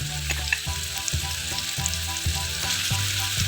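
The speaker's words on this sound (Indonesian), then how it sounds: "kemudian tumis, gunakan minyak sedikit saja" Coarsely blended chili and garlic sautéing in a little oil, a steady close sizzle broken by regular scraping stirs of the spatula.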